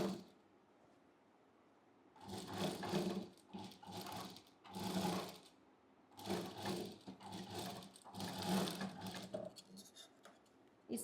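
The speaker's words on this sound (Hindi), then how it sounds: "अब मैं सिलाई लगा दूँगी।" A sewing machine stitching a blouse seam, running in several bursts of rapid mechanical chatter with brief pauses between them, close and fairly quiet.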